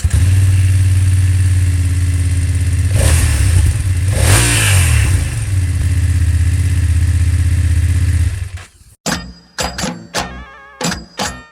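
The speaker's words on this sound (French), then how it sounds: "Petit démarrage à froid." A BMW F800GS motorcycle engine idles loud and steady after a cold start, with a couple of revs in the middle, then cuts off and is followed by a few sharp clunks.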